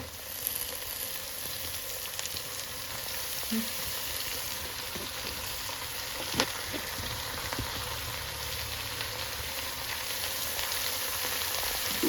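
Washed spinach fries in a pan with a steady, close sizzle and crackle that never lets up, broken only by a few faint clatters of a utensil.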